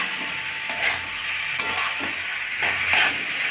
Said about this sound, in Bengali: এইভাবে মিনিট 3 ভালোভাবে এই কচুগুলোকে ভেজে নিতে হবে।